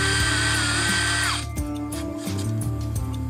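A power drill countersinking a screw hole in a homemade polycarbonate plastic bender, a steady loud whining buzz that changes pitch partway through as the bit bites, continuous and close.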